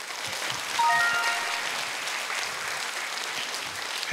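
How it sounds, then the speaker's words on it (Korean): A studio audience at a Korean Buddhist television programme applauds in a steady, moderately loud patter of many hands that continues evenly throughout. "여러분들 박수 소리 들어보니까"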